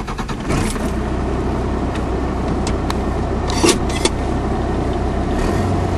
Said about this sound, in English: As we accelerate, we're going to increase in boost pressure.